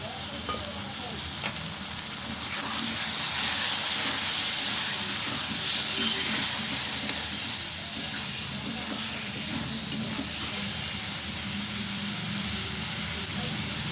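Tomato paste and turmeric fry in a pan with a continuous dense sizzle and hiss, steady and close throughout, with occasional light stirring knocks and no talk.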